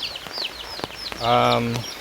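A young pullet hen that wandered off into the forest clucks close by: a few soft, scattered chirps, then one drawn-out, throaty cluck near the end, with faint rustling around it.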